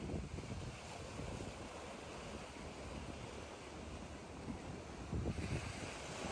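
High-tide waves surge and break at Boa Viagem beach in Recife, a steady loud roar of surf mixed with wind buffeting the microphone, with a heavier crash swelling near the end.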